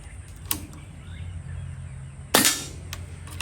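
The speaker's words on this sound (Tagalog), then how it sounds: "Second shot." One loud, crisp shot from an SPMC airgun snaps out about two-thirds through, preceded by a faint tap, over a quiet low hum.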